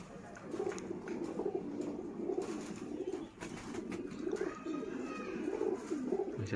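Teddy pigeons cooing in a loft, soft repeated throaty coos rolling in an overlapping rhythm, close and steady, with faint background noise and occasional wing movement.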